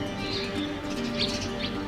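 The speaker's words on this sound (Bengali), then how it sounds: "কবুতর আবার স্পিড চলে আসছে আবার ওই ফুরফুর করতেছে" Pigeons flutter their wings in flight, a soft, brisk flapping that mixes with faint chirps and coos, steady and at moderate distance, with no one speaking.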